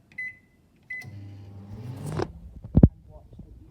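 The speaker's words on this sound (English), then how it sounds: "set the microwave timer to at least 30 seconds or so" Two short electronic beeps, then a low steady hum of a microwave oven running, followed by a couple of sharp clunks.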